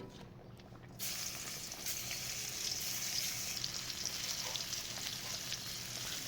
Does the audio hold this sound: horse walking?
no